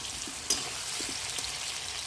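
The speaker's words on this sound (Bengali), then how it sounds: "তো প্রথমে দুধ কচু আর আলুগুলো ভেজে নিচ্ছি।" Taro and potatoes frying in hot oil give a steady, even sizzle, with a few soft pops and one brief louder crackle.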